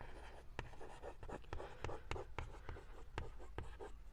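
Chalk or marker writing on a board during a maths class, a close run of quick scratchy strokes and taps in an irregular rhythm, with no talking.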